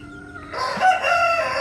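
A Basilan rooster crows once, loud and close, its call starting about half a second in and carrying to the end.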